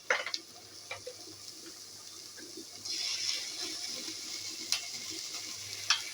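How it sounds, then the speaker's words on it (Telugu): Onions and green chillies sizzle in a pan with a steady, close crackle, as ginger garlic paste goes in and the fry grows slightly louder, with a few sharp stirring clinks scattered throughout. "ఇప్పుడు ఇవి కొద్దిగా వేయించుకోవాలి బాగా."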